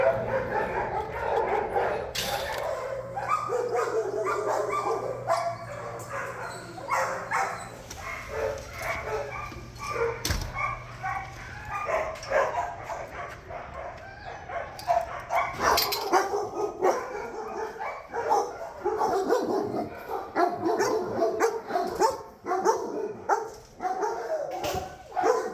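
Dogs bark in shelter kennels, repeated sharp barks and yips echoing from several animals near and far, with whimpers, clanks and a low hum underneath.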